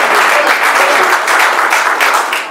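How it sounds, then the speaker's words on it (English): Audience at a ward candidates' forum applauds, a dense, even wash of clapping from many people, loud and steady for the whole stretch before easing slightly at the end. "Round of applause,"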